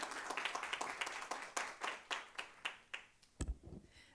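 An audience at a talk on AI and online teaching claps to welcome a speaker, moderately loud applause that thins out into a few scattered claps and then stops.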